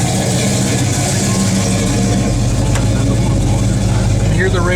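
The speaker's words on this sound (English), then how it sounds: "That's a snappy motor right there." A 1970 Chevrolet Chevelle SS V8 idles steadily with a deep, loud rumble throughout, a faint chirp near the end and no one talking.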